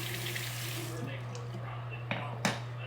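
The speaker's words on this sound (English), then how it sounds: "In between passes, I like to rinse my face." Tap water runs into a sink while a man rinses his face between shaving passes, a steady rush with a few splashes near the end and faint talk underneath.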